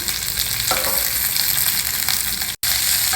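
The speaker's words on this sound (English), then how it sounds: "Just fry till all the nuts are well done, nuts and dal." Nuts and dal frying in ghee with green chilies and curry leaves crackle and sizzle loudly and continuously, with stirring scrapes and a momentary cut near the end.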